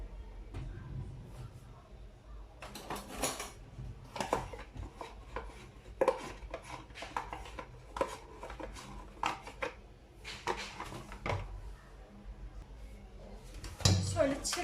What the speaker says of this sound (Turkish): Bir paket kremam olacak ve bunları çırpacağım arkadaşlar